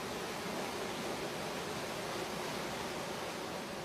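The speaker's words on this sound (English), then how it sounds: "from the tops of the mountain, you can see the water just rushing down under the rocks" Mountain waterfall in Shaoguan, Guangdong, with water rushing down over rocks, a dense, constant roar of broadband noise that stays steady and loud throughout with no voices.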